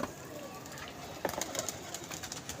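Lakha pigeon at a pigeon club cooing faintly among other birds, with scattered soft bird sounds over a steady low background, no talk.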